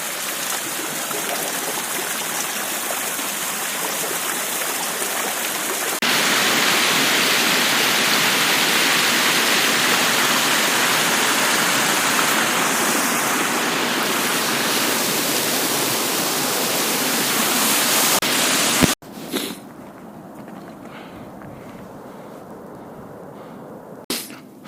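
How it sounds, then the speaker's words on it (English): A big waterfall roars as a dense, steady wash of rushing water that swells louder partway through, then cuts abruptly to a quieter, more distant rush near the end. "Big waterfall is up ahead."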